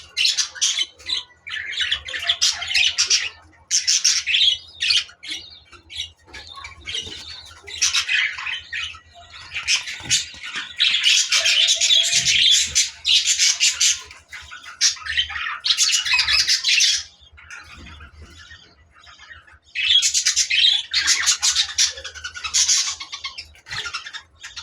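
A pair of lovebird parrots, mother and father just paired, squawk and chirp in loud, harsh bursts that come in repeated bouts with short pauses, close to the listener.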